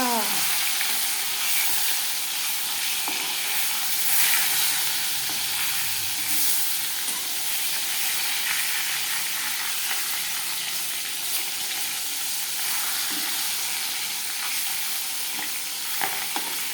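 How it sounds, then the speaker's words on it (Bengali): Steady, crackling sizzle of fish frying in hot oil, close and continuous, with small pops scattered throughout and no voices. "মাছটা ভাজা বসিয়ে দিয়েছি"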